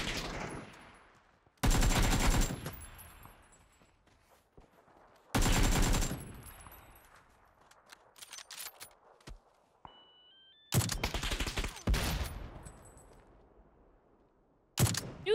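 Gunfire in the video game PUBG comes in several loud bursts of rapid automatic shots, separated by quieter gaps with faint footsteps and scattered single shots.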